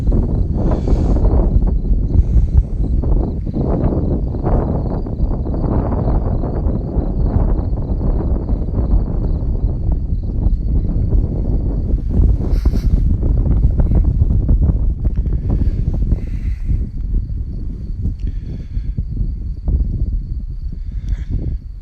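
Wind gusts across an open vineyard on a sunny day, a loud, rough rumble buffeting the microphone continuously, with faint birdsong audible at times.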